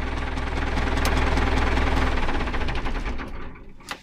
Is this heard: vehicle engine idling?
yes